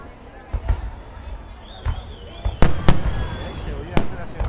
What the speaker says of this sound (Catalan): Se oye hacer las explosiones.